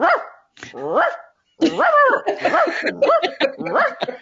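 A woman imitates a dog with her voice, giving a run of close, loud barks and yips, several short bursts in a row with brief pauses between them.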